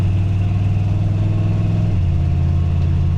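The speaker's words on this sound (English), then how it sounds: "the exhaust is definitely deeper though." A square body truck engine running through a new budget exhaust system, a deep, steady low drone with a slight pitch drop midway, loud and close with no talking.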